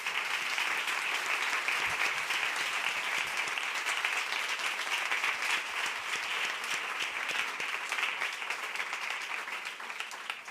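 An audience claps for a speaker at a Spanish-language talk, with dense, steady applause that holds loud and continuous for about ten seconds before tapering slightly at the end.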